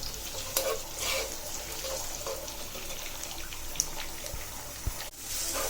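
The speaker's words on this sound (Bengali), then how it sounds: "আমার পেঁয়াজ, রসুন, কাঁচামরিচ একদম ভাজা হয়ে গেছে।" Onion, garlic and green chili frying in a pan give a steady, close sizzle with occasional stirring scrapes and clinks, with no voices.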